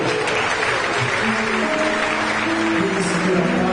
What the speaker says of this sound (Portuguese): Você pode aplaudir a Ele.